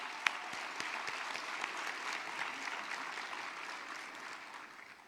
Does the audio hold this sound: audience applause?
yes